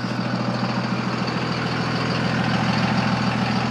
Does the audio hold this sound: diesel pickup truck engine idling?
yes